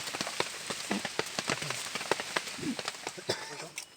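Rain falls steadily nearby, a dense patter of drops striking a surface with scattered louder taps throughout.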